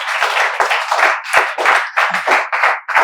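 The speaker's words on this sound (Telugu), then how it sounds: "మీరు ఈ క్లాస్ శ్రద్ధగా వినాలని మేమందరం చప్పట్లతో స్వాగతాన్ని తెలియజేస్తాం." A class of students clapping together in welcome, a continuous burst of many hands with uneven swells and dips, loud and close, with no talking over it.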